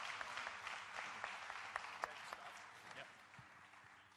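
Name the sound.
audience applause for cocktail competitor Vitaly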